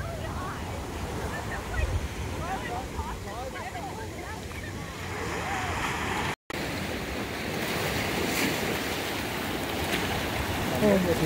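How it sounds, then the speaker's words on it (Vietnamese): Ocean surf on the California coast, waves rolling in quickly and breaking continuously against the shore with a steady roar, wind buffeting the microphone throughout, and a brief dropout midway. "Nhưng mà biển nó sóng nhanh quá, mình canh chụp hình nó hơi khó, nó đập tới nhanh lắm."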